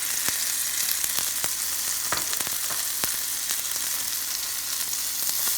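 Chopped chili and turmeric powder fry in hot oil in a pan for an egg-tomato curry, giving a steady, loud crackling sizzle throughout with a few sharper pops and spatters, close up and with no voices.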